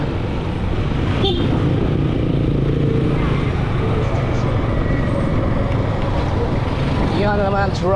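Dense road traffic with motorcycles and cars streams past in a steady loud wash of engine noise, with a brief horn-like tone and a passing engine whine near the end, people talking faintly underneath.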